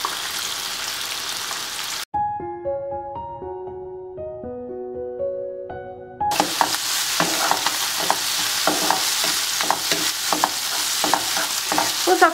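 Onion, red and yellow peppers, black olives and canned tuna crackle and sizzle in a frying pan as they are stirred, with a brief tonal musical jingle cutting in before the frying resumes.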